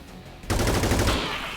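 A burst of gunfire in the video game XCOM 2 breaks out abruptly after a near-silent moment, loud and rattling for about half a second before trailing into a ringing tail.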